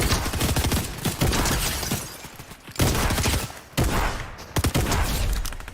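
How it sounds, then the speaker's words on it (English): Rapid bursts of video game gunfire, loud, dense volleys of shots with brief gaps between them and no talk. "Where is he shooting from?"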